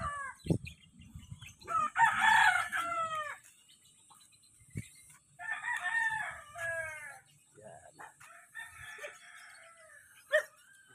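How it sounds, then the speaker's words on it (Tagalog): Fighting roosters kept in a village in Silang crow in several rising calls, faint to moderate and somewhat distant, with scattered clucks and a few sharp knocks between them. "Yan, alagang manok, marami."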